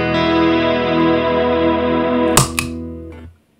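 A strummed guitar chord rings through an ambient reverb with long, sustained decay, steady and loud, before a couple of string scrapes and a sharp cut to silence near the end.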